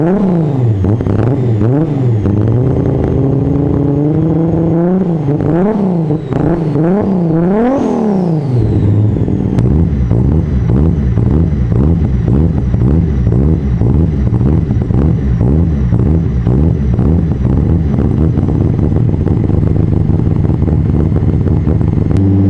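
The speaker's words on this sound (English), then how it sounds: "and it obviously has cams. You can hear this thing." A Toyota Supra MKIV engine with aggressive cams revs repeatedly, rising and falling loudly in quick blips, then settles into a choppy, lumpy idle with a steady pulsing rhythm, close and alone.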